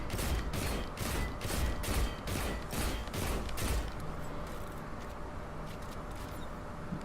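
The Better Devils, a legendary hand cannon in Destiny 2, fires a rapid run of about eight loud, evenly spaced shots over four seconds. Quieter mechanical clicks and faint scattered reports follow.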